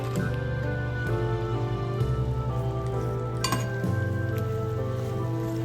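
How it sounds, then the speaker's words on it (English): Chopped garlic frying in a pot of hot ginger oil, a steady close sizzle with occasional clinks of stirring, no talk. "Add the garlic"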